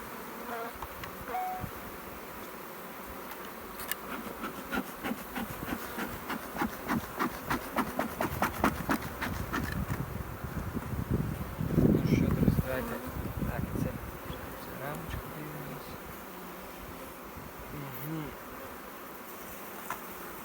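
Honeybees buzz around the frames of an open beehive in a steady, close drone, swelling into a louder burst of buzzing midway before settling back to a softer hum.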